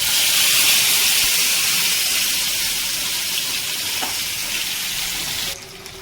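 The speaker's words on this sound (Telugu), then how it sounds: "ఇప్పుడు ఫ్రై చేద్దాం" Fish frying in hot oil, a loud steady sizzle and hiss that runs continuously, easing slightly toward the end.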